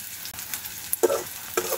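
Chopped onion and green chilies fry briefly in hot oil with a few whole spices in a pan, with a faint sizzle and a couple of quick stirring scrapes, close and quiet.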